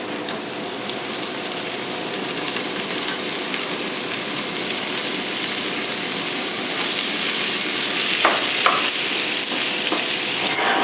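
Spinach and artichokes sizzle loudly with garlic in a hot frying pan, a dense continuous hiss with a few stirring knocks near the end, close up.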